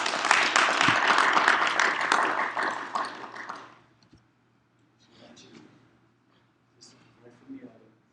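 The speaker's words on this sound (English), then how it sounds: "Please give them a round of applause," Audience applause greets panelists walking onto a stage at a live-streamed event, a broad wash of clapping for about four seconds that then fades into quiet room noise with faint scattered sounds.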